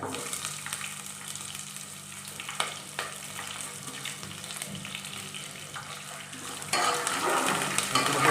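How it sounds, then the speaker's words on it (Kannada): Peanuts frying in a pan for tomato chitranna make a continuous close sizzle, with occasional clicks of stirring and a louder hiss toward the end. "ನೋಡಿ ಈ ಹದಕ್ಕೆ ಬರೋ ತನಕ ಫ್ರೈ ಮಾಡ್ಕೋಬೇಕು ಕಡಲೆ ಬೀಜ"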